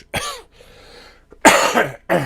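A man with a cold coughs loudly and close up, two harsh bursts separated by a short quiet breath, then the start of a third.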